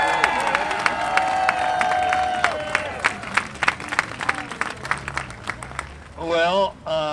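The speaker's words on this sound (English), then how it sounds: "So give a big round of applause to Ben Cohen" A rally crowd in New York claps and cheers loudly, a dense burst of applause with sharp individual claps that thins out toward the end, where a voice speaks over the dying clapping.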